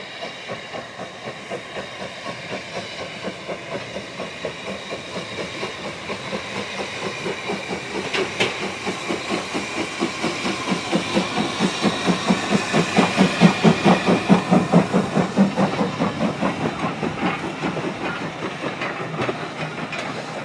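A 1938 Hudswell Clarke 0-6-0 tank steam locomotive pulls away from Keighley station, rhythmic chuffing and clattering wheels building steadily louder and then easing, with a background hiss, close by and with no voices.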